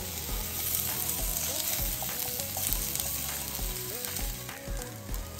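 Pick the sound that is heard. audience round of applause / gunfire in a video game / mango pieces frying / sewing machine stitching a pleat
mango pieces frying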